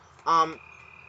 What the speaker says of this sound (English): you guys hear the frogs?